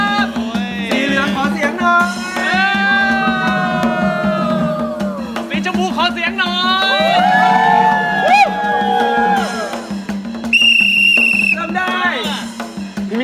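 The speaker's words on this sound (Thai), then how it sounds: "ขอเสียงปรบมือให้นักกีฬาทีมสีเหลืองเลยครับ" A lively studio crowd cheering and whooping for the yellow team's athletes on a Thai variety show, with shrieks, shouts and squeals rising and falling over a constant din, plus a loud, high squeal near the end.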